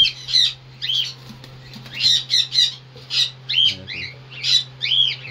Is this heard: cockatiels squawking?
yes